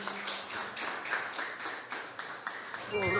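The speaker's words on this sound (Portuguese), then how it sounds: "Dê um aplauso ao Senhor." Congregation applauding in a church during a worship service, a dense steady patter of many hands clapping at moderate distance with some voices mixed in, rising slightly toward the end.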